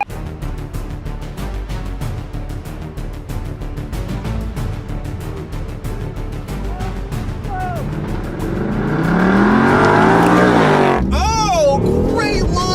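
A BMW i8 and a Ford Mustang launch in a drag race, engines rising to a loud, sustained roar with sharp hard shifts, while people talk excitedly over the noise.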